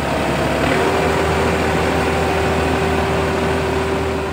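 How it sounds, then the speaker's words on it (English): A tractor engine idles after subsoiling a field, a steady low drone with a constant hum running unbroken and close throughout, no voices over it. "don't shut the tractor down right away. It needs to idle and cool down naturally for a bit."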